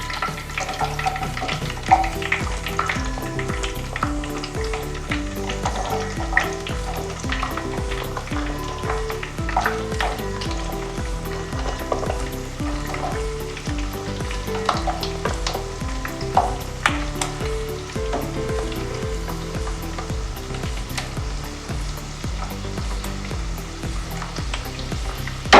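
Onions sizzle steadily in a hot pan for a sukha chicken dish, with frequent stirring scrapes and soft clatter over the continuous close frying hiss.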